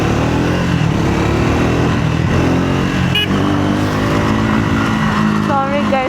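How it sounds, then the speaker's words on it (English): A motorcycle engine revs on the road, a loud continuous rumble with rising and falling pitch, mixed with wind and a rider's voice over it. "someone just asked me to rev and then I got really excited"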